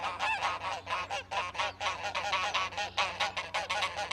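Rapid honking duck sounds used as an alert on a game stream, a dense run of nasal quacks and honks repeating steadily, loud and alone.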